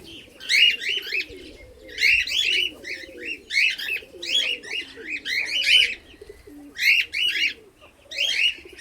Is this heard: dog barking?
no